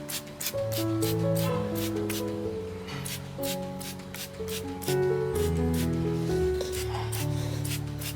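Hand pump sprayer misting an orchid plant in a rapid series of short hissing bursts, close and distinct, with soft rubbing and handling noises between sprays.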